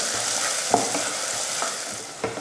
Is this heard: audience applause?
no